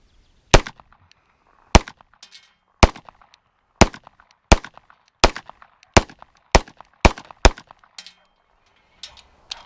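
A Sig P229 Elite pistol fires steel case ammunition outdoors, about ten loud, sharp shots spaced roughly a second apart, each with a short echo, with no talking.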